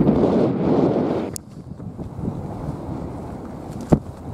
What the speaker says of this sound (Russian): Вообще ужасный ветер